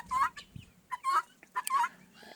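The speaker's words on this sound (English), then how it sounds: "And that sound there, that's a female guinea." A female guinea fowl gives a series of harsh, scratchy two-part calls, repeated several times at moderate volume, with faint background noise.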